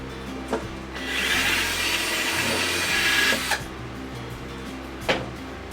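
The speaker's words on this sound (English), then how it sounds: "You just drill a hole." A drill with a 3/8 inch bit bores a hole through a plastic juice jug for a homemade chicken waterer, giving a steady grinding whir of about two seconds between a few short knocks and clicks.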